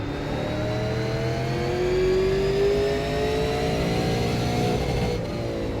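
A Super Late Model race car engine in the iRacing sim at Martinsville, running loud and steady at high revs with a slowly rising whine and no break throughout.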